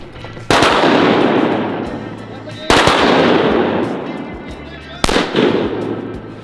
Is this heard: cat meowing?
no